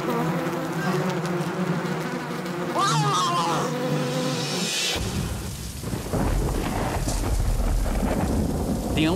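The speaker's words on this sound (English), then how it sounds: "a rainfall came and the rain was so extreme" Buzzing killer bees and shouting give way abruptly to a heavy, roaring downpour with deep rumbling thunder, loud and continuous to the end.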